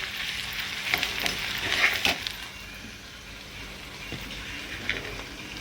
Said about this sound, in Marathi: इथं कांदा टाकलाय तळायला, लाल कांदा, ब्राऊन कांदा होऊ द्यायचा आहे